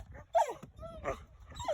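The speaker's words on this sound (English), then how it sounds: "Couple puppies? Oh! You guys are excited?" Excited puppies at a pheasant hunt whimper in a few short, high whines, faint and close against quiet rustling.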